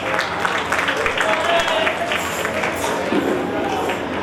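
Crowd applause at a special school's annual function, a dense, steady clatter of many hands clapping throughout, with voices mixed into the noise.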